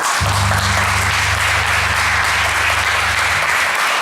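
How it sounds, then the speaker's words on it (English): Audience applause at the 2014 Bronx BETA awards ceremony, a loud steady wash of clapping that fills the whole clip, with a sustained low musical hum running beneath it. "Give yourselves a round of applause."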